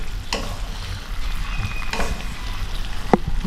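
Food sizzling and frying in a hot pan while being stirred, a continuous crackling hiss with occasional scraping and clinks of a utensil against the pan, close up and without talk.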